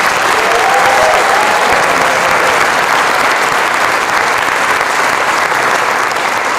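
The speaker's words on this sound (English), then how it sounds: "How about one more round of applause for our senior class?" Sustained, loud applause from a large audience for the senior class at a school music awards ceremony, a continuous dense wash of clapping that holds steady throughout.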